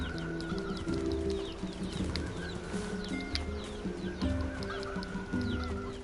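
Chickens cluck and chatter in a village area of the video game NieR Replicant, with several birds calling in steady, overlapping bursts at a fairly quiet level.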